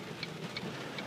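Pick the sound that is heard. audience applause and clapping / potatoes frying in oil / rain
rain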